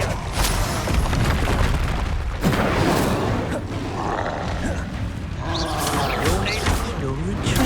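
A fire spell cast in Hogwarts Legacy on PS5 bursts amid dense, continuous combat noise, with booming impacts and crashing effects stacked together and no break in the din.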